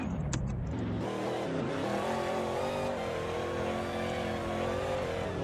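A car drifting and driving in a video game, its engine droning loud and continuous with stepped revving pitch changes and a tire squeal near the start.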